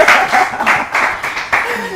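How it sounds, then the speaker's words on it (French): A short burst of clapping from an audience at a children's word competition show, a few loud, uneven hand claps heard up close over about two seconds. "des applaudissements s'il vous plaît"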